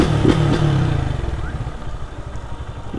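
Motorcycle fitted with a loud tin exhaust pipe, revving close by with a rough, rattling burst that settles into a lumpy idle, no talk.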